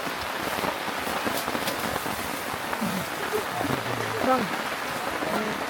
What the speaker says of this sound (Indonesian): Hujannya makin kencang.